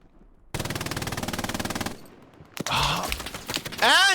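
A machine gun rattles in a long rapid burst during an 18 vs 18 multiplayer battle, then stops; more chaotic gunfire, whooshing effects and a rising whine follow after a short pause.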